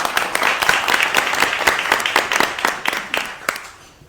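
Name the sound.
audience applauding themselves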